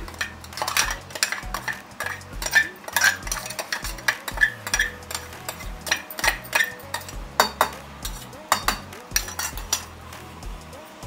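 A spoon scrapes and clinks against a pot as tomato chutney is scooped into a bowl, giving close, rhythmic repeated scoops with sharp metallic knocks and no talking.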